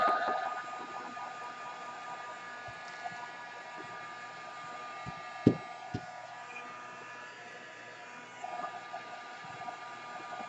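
A hair dryer blows steadily to dry watercolor paint on paper, a continuous even whir lasting the whole stretch with a few faint clicks and knocks underneath.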